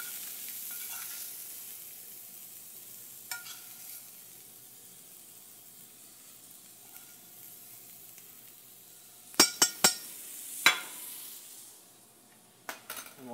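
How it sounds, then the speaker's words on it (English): Food cooking on a skillet with Coca-Cola BBQ sauce, a soft low sizzle through most of the stretch, then a few sharp metallic clanks of pan and utensil close together and a last clatter near the end. "Right onto the skillet. Let it cook right around."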